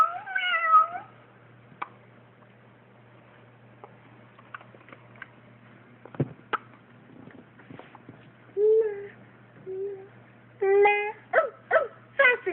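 A cat meows a few times amid a quiet indoor room, the short cries clustered near the start and end, with a faint steady hum underneath and occasional soft knocks.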